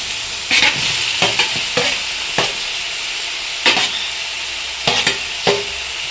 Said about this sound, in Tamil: தக்காளி சேர்த்து நல்லா வதக்கிக்கலாம்